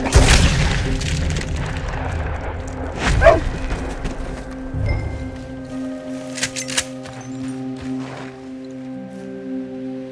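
Gunfire booms and a dog howling and barking in the Western video game Red Dead Redemption 2, sounding as a loud boom early on, then yelping dog calls and intermittent sharp bursts over a steady ambient background.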